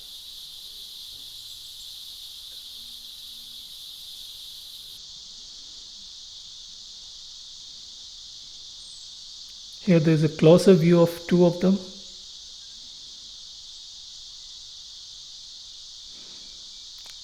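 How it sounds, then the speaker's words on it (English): Cicadas on tree bark in a jungle tiger reserve drone loudly and continuously in a high shrill band, with someone briefly talking over it midway. "Can you all hear some insects making loud noises? These are cicadas."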